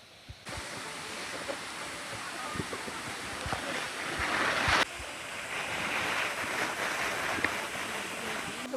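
Hidden waterfall on a monsoon family picnic, a continuous broad roar of falling water with wind buffeting the microphone, steady and close throughout without speech.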